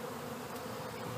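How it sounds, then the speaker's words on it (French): Honeybees swarming around an open beehive, a steady dense buzz of many insects close by that holds throughout without any voices. "je regarde aussi les abeilles, ça c'est les ouvrières"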